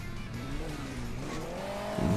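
A sports car engine in the game Hill Climb Racing 2 revs and shifts pitch as it drives, with a brief tire screech at the end; game-style racing audio, moderately loud.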